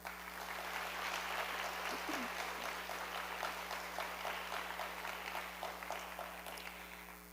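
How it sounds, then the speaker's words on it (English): Audience applauding at a guitar arangetram, a dense steady wash of many hands clapping that runs the whole length, moderately distant, over a low steady hum. "Please give a round of applause for Karthik."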